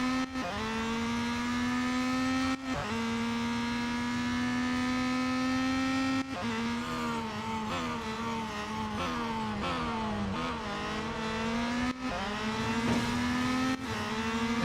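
Race car engines drone and rev in Real Racing 3, a steady high whine rising and falling with repeated gear shifts, loud and close, under no talking.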